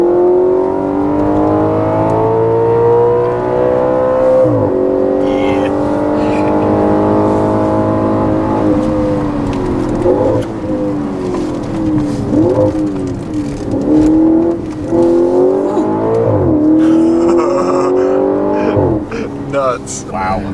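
A 2013 Audi RS5 engine revs hard to high RPM, its loud, droning note climbing repeatedly and dipping briefly at each gear change as the car pulls, close and continuous throughout.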